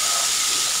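A spoonful of water hits turmeric, cumin and chili powder in a hot pan for a fish curry, giving a loud, brief, broadband hiss of sizzling steam, close up.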